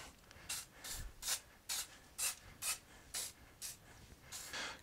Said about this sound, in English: I'm just going to spray some of this around the bottom.